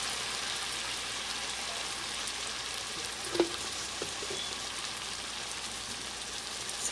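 Spices go into softened tomatoes in a frying pan for a white chickpea curry, setting off a steady, close sizzle that runs unbroken throughout, with one brief sharp tap partway through.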